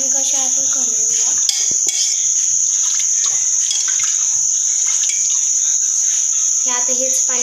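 Water swirled by hand inside a pressure cooker, with soft sloshing and light metallic clinks under a steady high-pitched whine. Brief voices are heard at the start and end.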